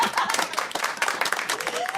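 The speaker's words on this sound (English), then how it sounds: "That guy knows how to start an applause break." A comedy audience breaks into brisk applause, dense overlapping claps from a sizable crowd, loud and sustained throughout, with a voice briefly audible over it.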